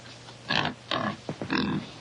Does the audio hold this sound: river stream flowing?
no